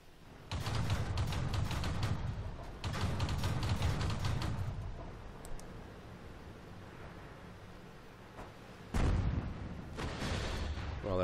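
An FV304 self-propelled artillery gun fires in the World of Tanks video game, with two long, heavy roaring bursts followed later by another loud blast, all fairly close.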